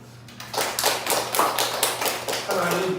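A church congregation claps in a loose, rhythmic pattern of sharp strikes during a Korean worship service, with a low steady hum underneath and a voice entering near the end.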